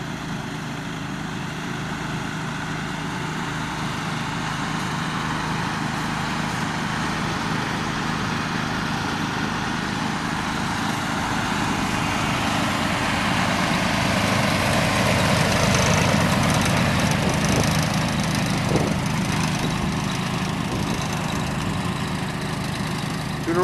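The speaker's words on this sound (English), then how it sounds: "Christian and Fernando are running the aerifiers today." Turf aerifier machines rumble steadily on a golf course in third gear, a continuous loud low engine drone with mechanical clatter that swells slightly midway, with no talking.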